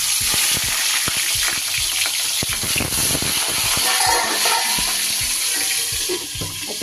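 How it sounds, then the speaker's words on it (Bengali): Rohu fish head, rubbed with salt and turmeric, frying in hot mustard oil in a kadai, giving a loud, steady crackling sizzle with sharp pops throughout and no talking. "আগে আমি মাছের মাথাটা ভেজে নেব"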